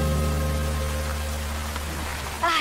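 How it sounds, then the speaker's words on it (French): Steady rain patters over a constant low hum, with a brief splashy burst near the end. "Ah, génial, il pleut."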